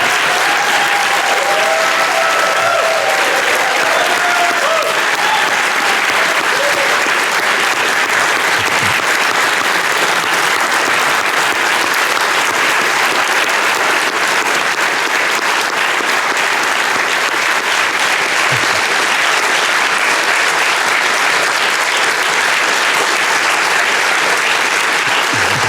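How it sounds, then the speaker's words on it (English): A live studio audience gives a sustained, dense round of applause, loud and steady for the full stretch, with a faint voice or whistle briefly audible near the start. "give Jack a round of applause for what he's been doing here"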